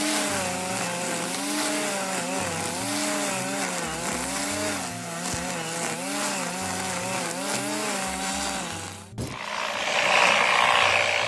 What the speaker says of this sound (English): this Chai Tuplama Makinalari proves incredibly effective for pruning lavender fields too